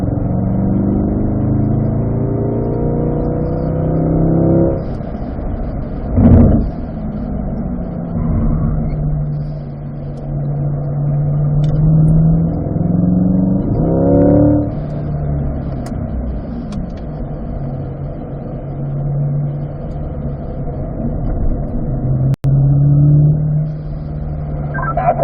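A car circles a racetrack during a driving session, its mid-pitched engine droning steadily from inside, the note rising and falling as it accelerates and eases off through the corners, with one sharp click near the end.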